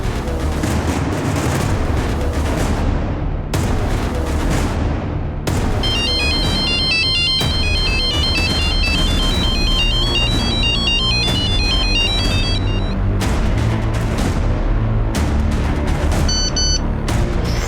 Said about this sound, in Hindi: सुजैन अपना फोन भी नहीं पिक कर रही है।